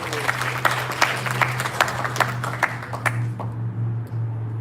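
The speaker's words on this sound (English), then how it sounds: "Give her a round of applause." Scattered applause from a small group at a Ramayan Yagna at Jalaram Mandir temple in Orlando, with a steady low hum underneath, tapering off toward the end.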